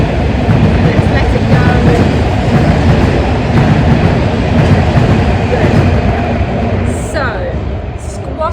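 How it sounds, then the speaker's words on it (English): A train rolls past close by, a loud sustained rumble and rail clatter filling the whole stretch before easing slightly near the end, with no speech over it. "I can hear a train coming and I'm aware that you can't hear me quite so well when it comes by."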